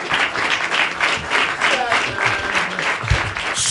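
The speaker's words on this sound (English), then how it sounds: "give Dave a round of applause" Dense, sustained applause from a conference audience at the Defcon 18 hacker convention, many hands clapping at once in a room, loud and continuous throughout.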